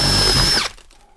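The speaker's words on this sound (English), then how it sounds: "Just need a starter hole for the jigsaw." A power drill bores a starter hole for a jigsaw during a 2021 VW Crafter bonded window install, a loud, brief whine that spins down and stops after about half a second.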